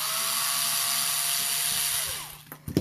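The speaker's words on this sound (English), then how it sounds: "It actually didn't take very long with the little power screwdriver like that." A small power screwdriver whirs steadily up close while backing large screws out of the top of a Craftsman mechanical water meter, then winds down and stops, followed by a few clicks and handling knocks.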